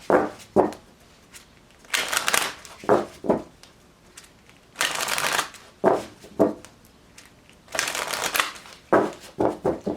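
Repeated bursts of tarot card shuffling, each a quick riffling rush followed by brief taps, coming in irregular clusters across the span, close and fairly loud.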